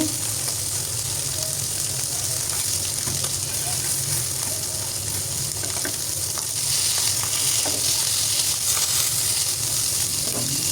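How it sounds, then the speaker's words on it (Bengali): Small puti fish fry in hot oil in a pan, a steady close sizzle and crackle running throughout with occasional spatter pops, growing slightly louder in the later seconds. "মাছগুলো আমি এভাবেই ভাজবো যাতে করে চাল কুমড়ার সাথে পরে দিলেও যাতে খাওয়া যায়"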